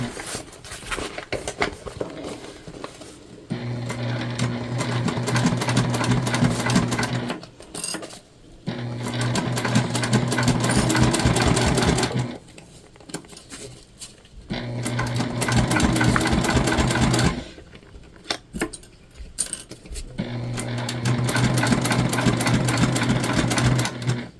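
A sewing machine stitches a large bag in four long, loud bursts of rapid whirring, each separated by brief pauses.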